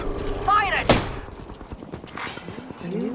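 Gunfire in an Apex Legends match, one sharp loud blast followed by scattered quicker shots and clattering game effects, with voices speaking over parts of it.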